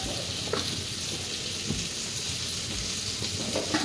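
Boiled potatoes frying in oil with a little salt, giving a steady, close sizzle with faint stirring clicks and scrapes throughout, no voices.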